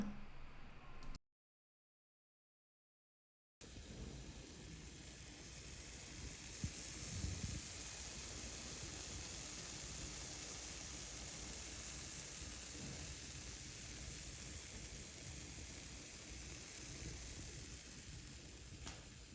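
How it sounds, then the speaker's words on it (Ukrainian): Tuna patties fry with a steady sizzle and constant hiss, broken by a short silent gap, then continuing evenly with occasional soft pops and clatter. "як бачите, все чудово смажиться"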